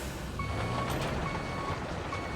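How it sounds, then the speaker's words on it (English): Reversing beeps from a heavy truck in the RoadCraft video game, a steady high tone sounding in a regular pulse over continuous engine rumble and background noise, with no talking. "Get ready for a whole lot of beeping."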